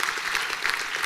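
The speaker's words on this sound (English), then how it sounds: "please clap for them once" Steady audience applause fills a convocation ceremony hall for graduating Chartered Accountants in Ernakulam, Kerala, a dense, even clapping that holds at full strength throughout with no voices over it.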